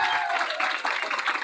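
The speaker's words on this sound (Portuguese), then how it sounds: "Mais aplausos." Audience clapping at a repentista singers' festival in Casinhas, Pernambuco, a lively burst of many hands applauding with uneven swells, fairly close, with a faint tonal sound lingering at the start.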